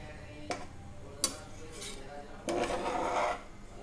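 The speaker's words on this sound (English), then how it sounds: "Just we have to lift the rice like this, and like this we have to flip it." A spatula scrapes and lifts sweet saffron zarda rice in a pot, with a couple of sharp ticks against the metal followed by a longer rubbing scrape, close and fairly quiet.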